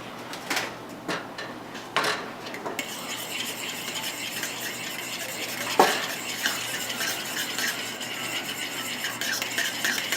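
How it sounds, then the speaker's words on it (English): Hot liquid being stirred into egg yolks for banana pudding, with repeated clinks and scrapes of a utensil against the bowl, then a quieter, continuous swishing stir under faint kitchen background noise. "you're just going to stir into your yolk the hot liquid"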